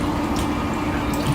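Electrolyzed hypochlorous acid water at 2.5 pH pours from the hose of an Enagic Super 501 unit as a steady, close, even hiss of running water.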